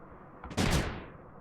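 Cannon fire in the strategy game Creeper World 3, a single sharp boom that swells briefly and then rings out in a fading tail, loud and isolated with no talk over it.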